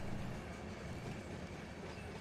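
A train rolls along the Mojave Sub in Run 8 Train Simulator, a dense, steady rumble of wheels and rail noise at moderate level, continuous with no voices.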